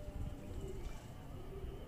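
A young Ferozpuri pigeon gives soft, low cooing close by, a steady murmuring call over faint background hum.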